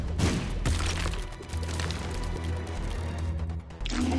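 Dense, continuous booming and crackling blasts in The Binding of Isaac, loud and layered with rumbling low end, like rapid game explosions over music.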